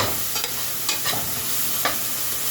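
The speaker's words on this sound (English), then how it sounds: "So now we're going to mix this around." Chicken tortilla soup ingredients stirred in a pot before liquid is added, with a soft steady sizzle and a few scraping spoon strokes, close and without talk.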